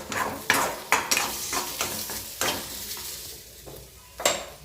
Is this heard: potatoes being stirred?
yes